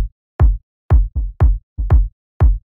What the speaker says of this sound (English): This really bassy kick and tom, I would say.